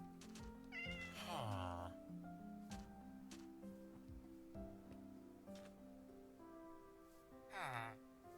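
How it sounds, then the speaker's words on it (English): A Siamese cat in the Minecraft video game meows twice, a clear, fairly loud call near the start and another near the end, over steady game music with occasional clicks. "Yeah, that's a Siamese cat"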